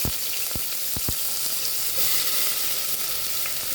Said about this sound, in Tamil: இப்போ நான் வெங்காயம் தாளிக்க போடுறேன்